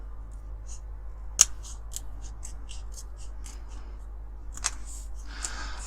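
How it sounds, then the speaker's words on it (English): Sharp snips of scissors cutting, a string of quick crisp clicks with a couple of louder cuts, close up and without speech. "I'll use my scissors for this actually"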